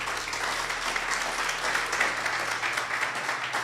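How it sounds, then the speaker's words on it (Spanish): A church congregation claps in steady, moderately loud applause that holds evenly across the stretch, with a low hum underneath and no speech. "¿Puedes darle un aplauso a Jesús?"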